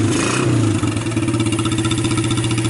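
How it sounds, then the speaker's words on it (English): An old Suzuki Quadrunner LT125 ATV engine running close by, a loud, rapid chugging idle with a brief rev at the start, then a steady pulsing putter. "And look, it's really this engine running."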